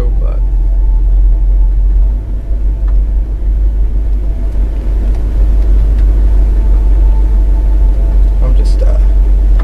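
A Chevrolet Silverado truck cruises along a road with a loud, steady low engine rumble and road drone, and the note barely changes throughout.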